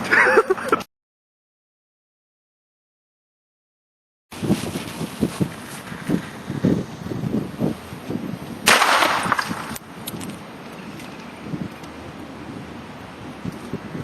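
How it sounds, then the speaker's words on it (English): An airsoft grenade goes off outdoors: a loud burst opens, then near silence, then a run of sharp popping cracks with wind rumble and a broad hissing blast in the middle. "Now that's an airsoft grenade."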